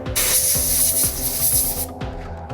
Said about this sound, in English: A little compressed air.